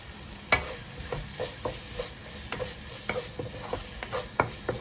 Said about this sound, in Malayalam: ഇനി ഇതിലോട്ട് നമുക്ക് കുറച്ച് മല്ലിയില ഈ സമയത്ത് ഇട്ട് കൊടുക്കാം അതും കൂടി ഇട്ടിട്ട് നന്നായിട്ട് നിളക്കാം